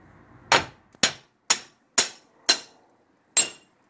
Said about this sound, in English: so to get this off, I think we just hit it with a hammer.